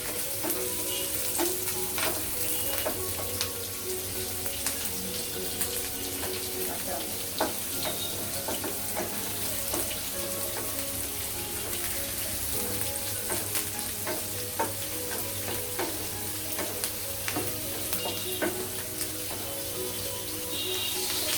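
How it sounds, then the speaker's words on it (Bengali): Potatoes and pointed gourd fry with chopped garlic in a pan, giving a constant dense sizzle with scattered close scrapes and taps from stirring throughout. "আলু পটলটা আরেকটু নেড়ে দিচ্ছি।"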